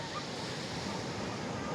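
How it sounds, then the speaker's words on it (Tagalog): Heavy surf pounding a boat on the shore at Tanza, Cavite, a steady broadband roar of crashing waves with wind buffeting the microphone, continuous and close throughout. "Alon."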